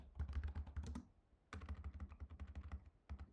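Typing on a computer keyboard: close, quiet bursts of rapid key clicks with a short pause between runs.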